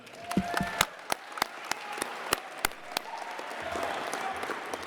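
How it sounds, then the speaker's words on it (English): Audience applause rises for the nominees at the 2025 RVA sports awards ceremony in the Altria Theater: a few distinct, sharp claps at first, then building into a fuller wash of clapping in the hall. "can we have another round of applause for all the nominees for tonight?"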